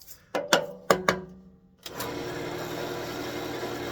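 A wood lathe with a roughing gouge works a birch branch for a ring stand: a few sharp knocks of the tool touching the spinning blank, then a steady, close broadband cutting rasp once the gouge bites in.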